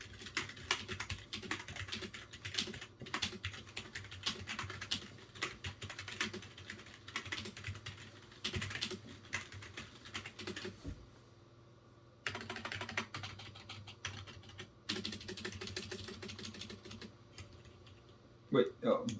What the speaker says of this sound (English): so this is what the keyboard sounds like